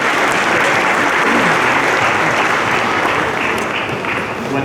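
A crowd at a naturalization ceremony in Oakland, California applauds a brand new citizen: loud, dense clapping that holds steady for several seconds and then eases slightly toward the end.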